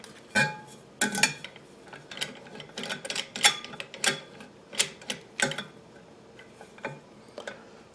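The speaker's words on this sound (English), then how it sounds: "I'm going to cut it with a tube cutter." A handheld tube cutter's round blade scoring around a metal tube: a close run of irregular sharp clicks and ticks, some louder, that thin out toward the end, with no voices.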